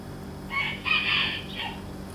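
A single rooster crows once, fairly close and clear, over a low steady background hum.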